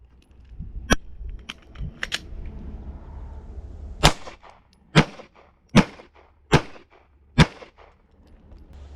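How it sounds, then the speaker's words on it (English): A handgun fires five sharp, loud shots, one hand only, at a law-enforcement qualification range, spaced about a second apart after a few lighter clicks and handling noises of the draw. "I'm going to draw fire 5 rounds strong hand only"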